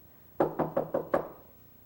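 Five firm knocks on a door in a quick, even run, close and clear against a quiet room.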